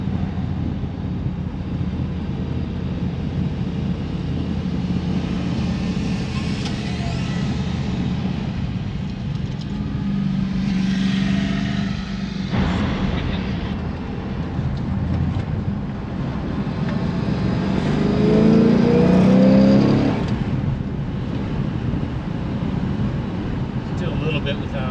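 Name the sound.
1967 Plymouth Belvedere II big-block car driving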